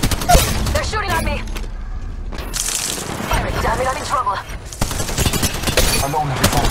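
Rapid gunfire in an Apex Legends Mobile firefight, with bursts of shots and sharp cracks coming in waves amid game voice lines, pausing briefly before resuming loudly.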